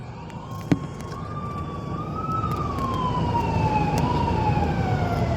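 A fire truck siren wails past a Petron gas station, its rising and falling tone sweeping across several seconds over steady traffic and engine rumble, growing slightly louder as it goes, with a brief sharp knock near the start.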